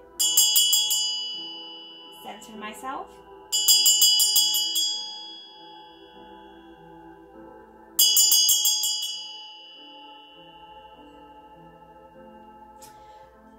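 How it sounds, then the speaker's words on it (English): A bright bell is struck three times, each strike ringing out and slowly fading, with a soft voice speaking briefly between the first two. "allow me to just kind of ring my bell for a moment."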